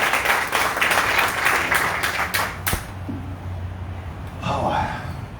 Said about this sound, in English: Let's give a big hand of applause for our guest speaker